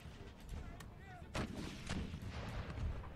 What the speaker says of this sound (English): Probably tell these guys to stop firing. Especially the cannons.